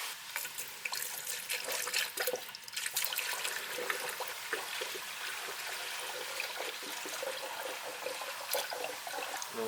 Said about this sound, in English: we're going to put coolant in it and finally bleed this thing